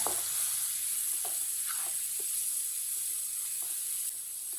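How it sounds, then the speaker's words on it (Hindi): Ground spices with turmeric and coriander powder cooking in oil over low heat, a soft steady sizzle close by with faint scraping stirs at intervals. "सब मसालों को 1 मिनट के लिए पका लेंगे"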